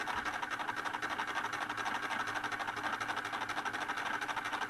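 The motor of a homemade mechanical television spins fast at about 12 volts, giving a steady, even whirring drone that stays level throughout, close and moderately loud, with no speech.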